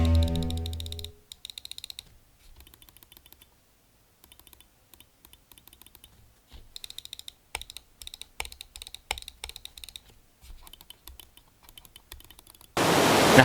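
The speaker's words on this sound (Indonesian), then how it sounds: "gue coba kasih dengar kalian untuk suara si switch-nya seperti ini" Clicks from the switches of an Epomaker Click computer mouse come in quick bursts of sharp, close taps with short pauses between them, ending in a loud burst of hiss.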